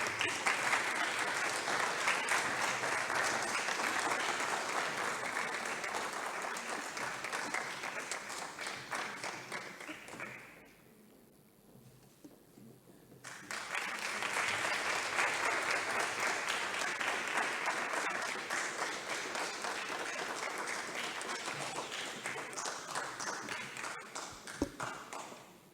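Sustained applause from an audience honoring award winners at a children's day event, a dense wash of clapping that dips briefly in the middle before swelling again and continuing steadily.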